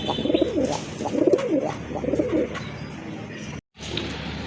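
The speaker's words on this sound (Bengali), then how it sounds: "এটা মাদি কবুতর, নতুন কবুতর" Pigeons coo in repeated soft, rolling phrases close by, a new female Rajgolla pigeon among birds kept for sale, with low background noise.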